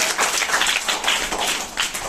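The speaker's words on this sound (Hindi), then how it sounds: "ताली बजाइए पीयूष के लिए।" Classroom of children clapping for a classmate named Piyush during a game, a brief burst of quick, uneven claps from many hands, loud and close.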